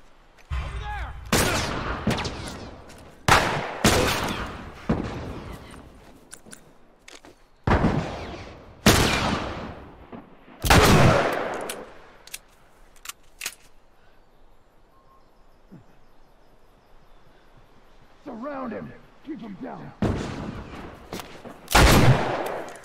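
Shotgun blasts in the video game The Last of Us: several loud, booming shots spaced irregularly, with quieter game ambience and faint rustling between them.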